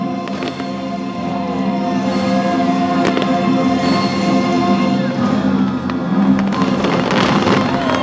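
Fireworks show at Hong Kong Disneyland: loud, continuous bursts and crackles layered over sustained music and crowd ambience, with sharp booms punctuating throughout.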